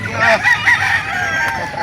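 A gamefowl rooster crows loudly and close at a chicken sale in Calauan, a few strained, wavering calls rising over crowd murmur and scattered clucking.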